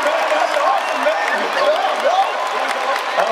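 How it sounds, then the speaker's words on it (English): An audience claps and cheers for a performer at a live event, with dense, loud, sustained applause filling the whole stretch and no pause. "Give it a big hand clap for Julio"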